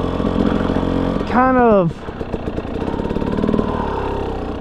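KTM or Husqvarna TPI two-stroke dirt bike with a pinging issue, engine popping and idling, then a sharp rising rev that falls away, followed by a choppy idle, with a person talking over it.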